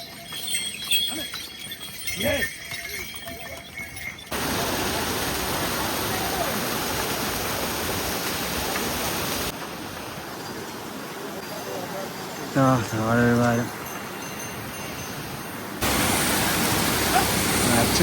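A waterfall on the Kedarnath mountain trek gives a loud, steady broadband rush that swells and drops as the recording shifts. A brief voice is heard partway through.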